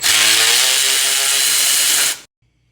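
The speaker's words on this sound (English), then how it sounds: "Grab your 1/2-inch socket and short extension and your Milwaukee ratchet" A Milwaukee power ratchet with a 1/2-inch socket and short extension spins out exhaust manifold bolts on a 4.6 engine, a loud, close, steady mechanical whir lasting about two seconds before cutting off abruptly.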